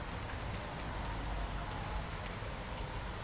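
Steady rain falls in the video game Hobo: Tough Life, a soft, even hiss of drops on surfaces that carries on unbroken at a quiet level.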